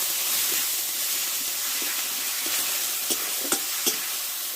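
Ground cumin, coriander and chili powder sizzle in oil in a pan with a splash of water for a pumpkin mung dal, an even close hiss broken by several light stirring taps near the end.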